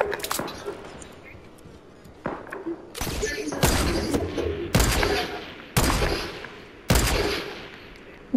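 Gunfire in a video game aimed at an enemy hiding in a bush, with several sharp loud shots and short bursts spaced about a second apart, each trailing off with a brief echo.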